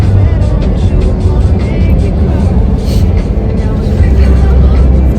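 Inside a car driving on a road in Iceland, steady loud engine and road rumble filling the cabin throughout, with people talking over it.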